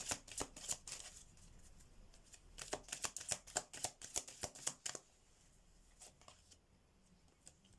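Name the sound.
shuffling oracle and message cards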